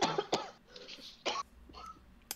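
A person coughs and clears the throat in several short, sharp bursts separated by brief pauses, fairly close and otherwise quiet.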